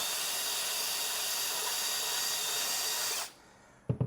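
A power drill whines loudly and steadily as it bores bolt holes into an aluminum rooftop tent shell, then stops abruptly and leaves near silence broken by a few sharp clanks.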